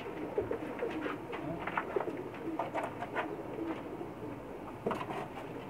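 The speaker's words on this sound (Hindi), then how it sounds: "अब एक और कबूतर का शौक़ करवाएंगे" Soft, repeated cooing from a female Pakistani pigeon close by on a rooftop in Jeddah, low throaty calls recurring irregularly over a steady outdoor background.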